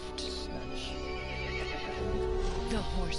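A horse from the Resident Evil Village video game whinnies loudly, a long wavering neigh with some clip-clop of hooves beneath it, close and prominent throughout.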